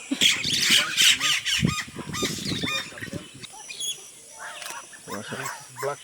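Horned screamer bird letting out loud, honking squawks in Peru, several harsh calls in quick succession, with people talking nearby over the calls.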